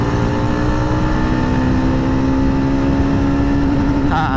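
A 2024 Yezdi Roadster motorcycle engine drones loud and steady at speed with heavy wind rush, pitch climbing under acceleration before a shift into fifth gear near the end.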